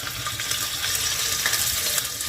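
Hilsa fish head frying in hot mustard oil, a steady close sizzle and crackle that holds at an even level throughout, with no voices over it.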